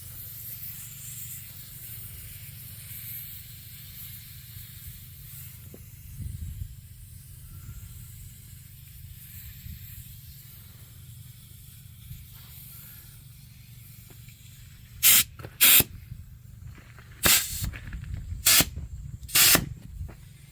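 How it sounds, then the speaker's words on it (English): Quiet background rumble, then several sharp bursts of air hissing out of a tire valve, short spurts in quick succession, close and fairly loud, with pauses between them. "I hear air coming out."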